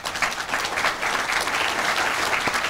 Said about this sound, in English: So I would like to give both of them a round of applause.